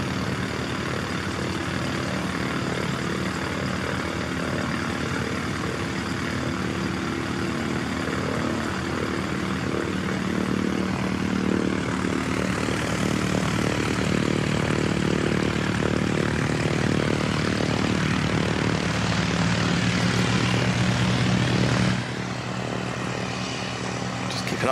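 Aircraft departing Christchurch Airport, a sustained engine roar with propeller-like drone that swells midway and stays strong before cutting off abruptly near the end, heard from a distance.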